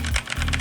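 Keys on a Logitech gaming keyboard clack in a quick run of about half a dozen crisp, close keystrokes, with no voices.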